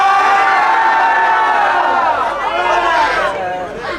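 A high school swim team crowd on senior night shouts a group cheer in unison, loud, close and sustained, with many young voices blending into a rising, chanting roar.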